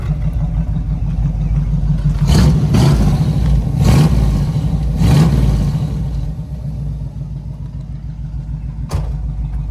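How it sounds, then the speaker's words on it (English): A 1978 Chevrolet Malibu Classic engine idles with a deep, steady rumble, then revs up loudly several times in quick surges before settling back, close and alone with no talk. "we'll rev it up a little so you can hear how this thing sounds"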